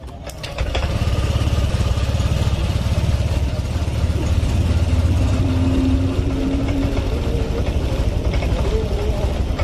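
A Honda Vario Techno 125 scooter engine cranks with a sharp starter burst, then catches and runs at a steady, close idle that fills the rest of the clip.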